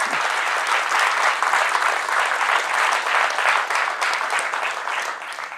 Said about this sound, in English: So, claps for Dave.